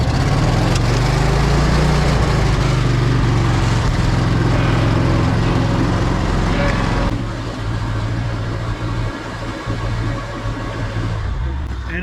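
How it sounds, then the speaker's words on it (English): A fuel-injected riding lawn mower engine runs loud and close throughout, its steady drone dipping and shifting in pitch as it surges, with the tone changing noticeably partway through. "And I am on the fuel injected mower, so the surging mower."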